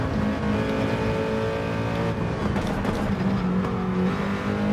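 Nissan GT-R GT3 race car in Gran Turismo 7 at Sardegna, its front-mounted engine droning steadily at high revs throughout, loud and close with slight pitch shifts as it pulls hard.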